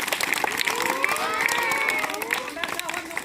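Schoolchildren at a village primary school clap loudly together, a dense crackle of many hands, with a few high voices calling out over the applause.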